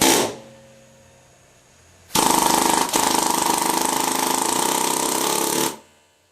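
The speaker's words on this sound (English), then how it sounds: "When sizing, you must use a short stroke air hammer." Short stroke air hammer sizing a valve guide liner in a cylinder head: a faint hiss at first, then a loud, rapid, steady hammering chatter that runs for about three and a half seconds before cutting off.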